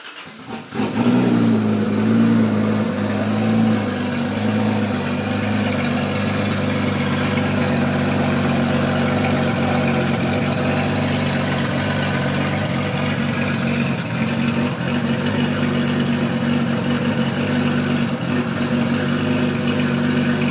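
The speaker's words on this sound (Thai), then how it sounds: "สตาร์ทเครื่องนะครับ เราจะมาสตาร์ทเครื่องกันฟังครับ" A dragster engine fires up and settles into a loud, steady, rumbling idle that holds close and constant with no pauses.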